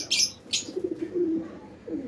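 A pigeon gives a few soft, low coos nearby, with a couple of brief higher chirps or rustles at the start.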